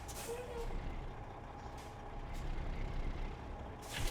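A truck's air brake in American Truck Simulator releases a sharp hiss of air against a steady low diesel engine rumble, with a couple of brief pneumatic bursts near the end.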